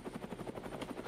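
Helicopter in the video game Brick Rigs, a steady rhythmic rotor chop beating several times a second, fairly close and continuous throughout with no talk over it.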